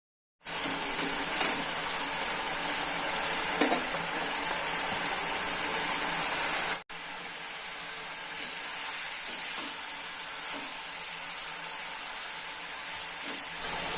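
Fried rohu fish pieces go into a pot of boiling liquid with jackfruit seeds for a chachchari, producing a steady bubbling hiss that drops out briefly midway and resumes slightly quieter.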